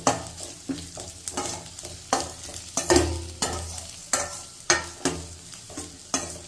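Onions with curry leaves fry in a pan for a Mangalore-style chicken curry, a steady sizzle broken by regular scraping stirs, about two strokes a second, close and clear with no talk.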